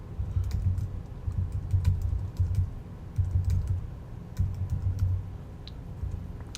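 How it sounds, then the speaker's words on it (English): Computer keyboard typing in steady bursts of close, crisp key clicks, with short pauses between runs, over a low background hum. "all you guys gotta do is type in the URL"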